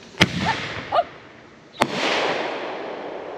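Fourth of July consumer fireworks go off outdoors: sharp bangs at intervals, each followed by crackling and a drawn-out hissing shower, the last burst trailing into a long loud crackle.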